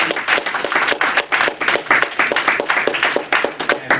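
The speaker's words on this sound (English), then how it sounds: "I would like for everyone to give our local minister another warm round of" An audience at a religious gathering applauds the local minister, dense overlapping handclaps forming a sustained, lively round of applause, fairly loud and close throughout.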